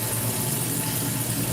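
Water runs hard and steadily from a kitchen tap into a sink full of dishes, a loud, continuous rushing gush that fills the whole moment with no talk over it.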